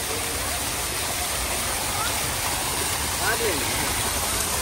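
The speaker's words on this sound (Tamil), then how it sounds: "தண்ணி ஊற்றுது" Steady, dense rush of pouring water from a lit fountain in a botanical garden, constant and fairly loud throughout, splashing continuously with no pauses.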